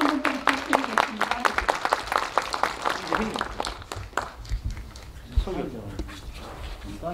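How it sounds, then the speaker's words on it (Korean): An audience at a residents' briefing on a World Heritage burial mound site applauds a professor, with brisk clapping in the first half that thins and fades as a voice begins speaking. "교수님께 박수 한번 부탁드리겠습니다."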